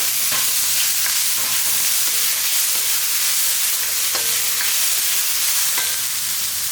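Chopped shallots, about 100 grams, sizzle and fry steadily in a pan while preparing goat blood poriyal, with a continuous close hiss broken by occasional clinks of a stirring spoon against the pan.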